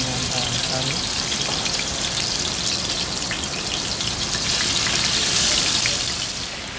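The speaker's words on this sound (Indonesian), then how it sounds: "setelah panas baru masukkan daging yang sudah direndam dengan atau dimarinasi dengan kari" Curry-marinated meat, buffalo meat from Alaska, frying in hot oil, a dense continuous sizzle and crackle that stays loud and close throughout with no pauses.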